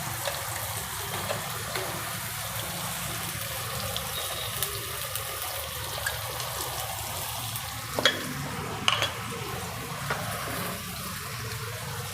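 Crushed carrot and beetroot frying in ghee while being stirred, a steady, close sizzle with soft scraping and occasional sharper clicks of the spoon against the pan.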